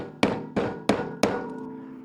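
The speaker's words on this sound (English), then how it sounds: "I'm going to go get a hammer and we'll tap that in." A hammer taps a part into a Dodge brake caliper being rebuilt, four sharp metallic knocks spaced about a third of a second apart, close and fairly loud, each ringing briefly, followed by a faint fifth tap.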